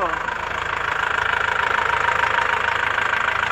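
A 2019 Euro 4 standard modern jeepney's engine idles nearby with a steady, rhythmic mechanical chugging and a faint knock, holding at an even level throughout.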